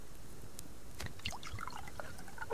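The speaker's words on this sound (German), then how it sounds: "Ich muss Wasser reinballern." Water pouring into a container in the survival video game Subsistence, a light, close trickle with small drips and splashes over about two seconds, alone with no talk.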